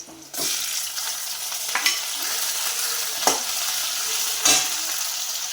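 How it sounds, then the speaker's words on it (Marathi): Onions crackling in very hot oil for a spicy pumpkin curry, a loud steady sizzle that starts abruptly, with three distinct stirring scrapes cutting through the frying. "कांदे तेल जास्त कडकड झाले ना त्याच्यामुळे कसे वाटतात कांदे बघा"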